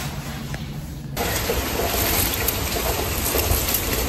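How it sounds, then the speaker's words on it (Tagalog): Steady, dense rain roars nearby in Canada, the broadband hiss swelling louder after the first second and continuing without letup, with no voices. "Medyo malakas ang ulan pala talaga."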